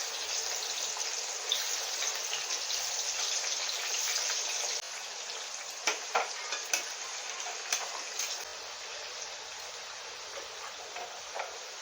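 Raw green banana frying in oil in a pan: a loud, dense, steady sizzle that drops slightly halfway, with scattered clinks and stirring taps on top and no speech.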